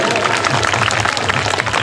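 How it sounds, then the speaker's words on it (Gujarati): Audience applause at a school annual function, a dense, steady wash of many hands clapping close by, filling the whole moment with a faint voice mixed in. "મિત્રો જોરદાર તાળીઓથી વધાવો"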